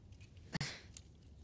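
Car keys to a Jaguar jangle in one quick, close shake, a brief metallic rattle with a faint clink afterward in an otherwise quiet room.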